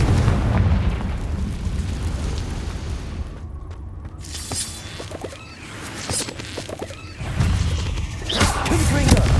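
Confringo spell blasts in the video game Hogwarts Legacy, loud booming explosions and crackling impacts amid ongoing combat effects, with bursts at the start and again near the end.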